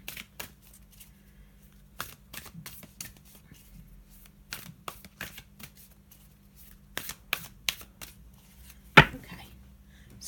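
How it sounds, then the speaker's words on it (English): Shaman oracle cards being shuffled by hand, a run of sharp riffling snaps and soft card slaps in irregular bursts, close and clear over a quiet room, ending with one louder slap. "So I'm just going to have a little shuffle and put down one of these mystical shaman cards for today for us."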